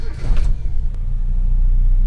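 A Toyota Kijang engine, still cold and suspected of a leaking valve, is revved close up, giving a loud, steady low rumble that swells briefly and holds without speech.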